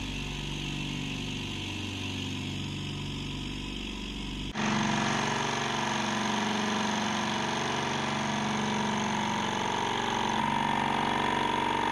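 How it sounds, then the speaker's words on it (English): A silent air compressor, tested for a soda blaster on an old farm renovation, switches on partway through with a sudden jump into a steady, fairly loud humming drone that continues evenly to the end. "A silent compressor."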